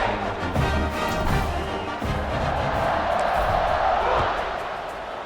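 A stadium crowd roars steadily through a college football video game as NC State leads Virginia and the kickoff unit lines up. The sustained, loud cheering swells slightly midway, then eases toward the end.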